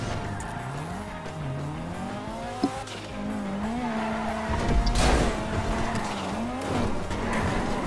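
A car driven in GTA 5 holds a steady engine drone with rising and falling revs, tire squeal and skidding throughout. A louder rough burst comes midway.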